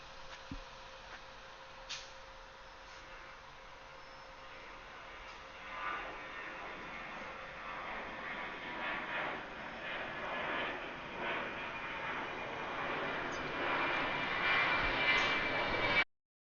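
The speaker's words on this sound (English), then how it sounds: "here comes the 737" A Boeing 737 jet airliner at Atlanta airport rumbles in from a distance, its engine roar building gradually and steadily over about fifteen seconds into a broad, loud wash before cutting off abruptly.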